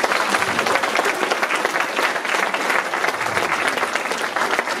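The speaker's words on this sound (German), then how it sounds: "Vielleicht könnt ihr ja noch mal klatschen" Audience applause at an outdoor living Advent calendar event, a dense steady wash of many hands clapping continuously and fairly loud throughout, with no talk over it.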